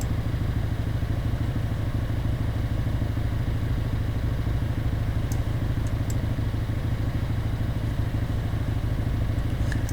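A Fiat Abarth engine idling in the racing game Assetto Corsa, a steady, close, rumbling idle with rapid even pulses running unbroken throughout.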